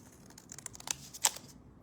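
Scissors snip through folded paper while a flower-petal template is cut, a few quiet crisp cuts close by with pauses between them.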